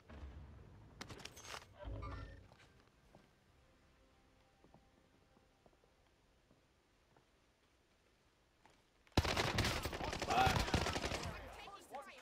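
Bursts of automatic gunfire in a multiplayer shooter: a short volley at the start, a long quiet stretch with faint ticking, then a loud, sustained rattle of fire near the end.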